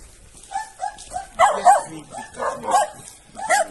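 A dog barks repeatedly in short bursts, fairly close, with a few yips mixed in; a person speaks briefly in the background.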